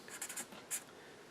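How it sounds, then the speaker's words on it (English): Pen or marker writing on the cut face of a wood log section prepared as a lathe bowl blank, a few short scratchy strokes in quick bursts, close and fairly quiet, with no talking. "I'm sorry, I can't write upside down."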